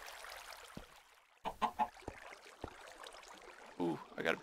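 Chickens in a Minecraft Agrarian Skies 2 modpack cluck in short, bright bursts, a few scattered calls with a pair close together and more near the end, over a quiet game background.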